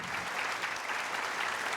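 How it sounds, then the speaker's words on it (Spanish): Audience applause closing an academic conference session, a short, steady patter of many hands clapping at moderate distance. "Yo despediría al doctor Faraón Llorens con un fuerte aplauso"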